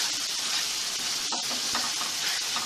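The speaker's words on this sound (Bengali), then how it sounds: "এভাবে নাড়তে থাকতে হবে" Spices being stirred while frying in oil for a Bengali tomato-potato tengra fish curry: a close, constant hissing sizzle with a soft scrape of the spoon near the middle.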